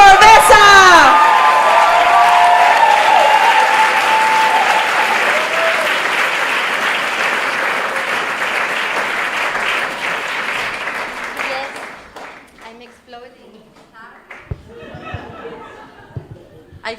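Audience applause at a live performance event, loud sustained clapping with some cheering that gradually fades after about twelve seconds into scattered claps and low chatter, with a voice heard at the start.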